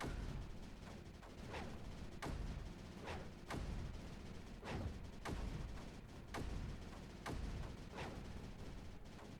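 Repeated heavy cannon blasts in the video game Creeper World 4 boom at irregular intervals over a steady rumbling background, loud and close, with no talking.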